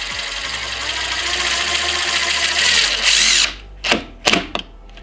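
A power drill drives a screw into the bottom mounting hole of a Liftmaster Chamberlain garage door keypad, a loud close steady whine of about three seconds, then a few short bursts as the screw is snugged.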